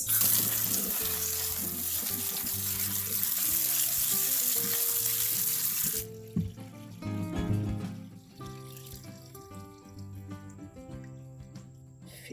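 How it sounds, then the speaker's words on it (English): Tumbled rocks rinsed under running water, a loud rushing stream for several seconds that cuts off, followed by wet rattling and clinking of stones with faint music behind. "It's cleaning out really well. Let's do a rinse."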